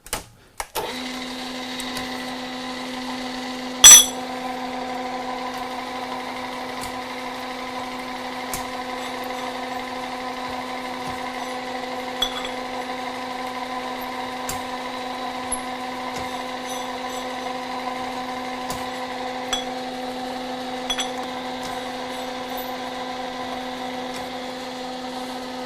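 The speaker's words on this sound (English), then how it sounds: "I'm going to put a little countersink in here" A machine tool countersinks a hole in a metal part, running at reduced speed with a steady humming whine and a few sharp clicks and taps, loud and unbroken.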